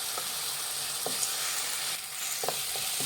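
Tomatoes and okra frying in a pan for Punjabi bhindi masala, a steady close sizzle with a few soft stirring scrapes and clicks scattered through, no voices.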